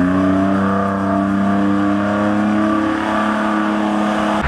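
A BMW drift car runs on a track with its engine droning loud and steady, the pitch holding high and sustained throughout without a break, heard up close.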